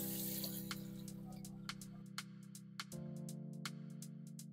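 Glutinous rice, a kilo of it, washed in water: a steady close run of water sloshing and running, with hum underneath and scattered sharp clicks of grains and bowl, no talk.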